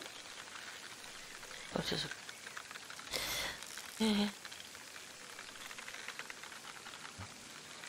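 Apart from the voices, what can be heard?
rain in Fishing Sim World, video game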